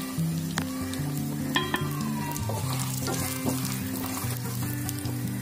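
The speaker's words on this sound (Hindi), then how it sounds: "और अभी मैं ड्राई फ्रूट को फ्राई कर रही हूँ।" Dry fruits frying in desi ghee for makhana kheer, a loud continuous sizzle with repeated sharp spoon scrapes and clinks against the pan, heard alone with no speech.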